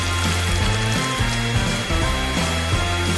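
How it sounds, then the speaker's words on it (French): A hair dryer runs continuously to melt Skittles candy paint on a cake, a loud steady whirring hum with a shifting motor tone and no talking. "j'ai besoin d'un sèche-cheveux pour faire fondre la peinture du Skittles."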